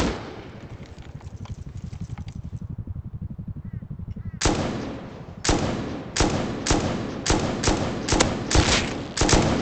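Gunfire in the online survival game Rust: after a stretch of low rumbling background, about eight loud, sharp shots ring out in an irregular string, each one close and crisp.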